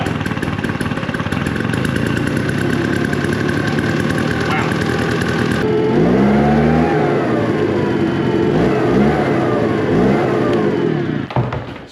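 A Tomahawk turbo backpack mosquito fogger leaf blower engine starts and runs steadily close by, a loud continuous two-stroke drone that rises in pitch midway and holds until it cuts off near the end.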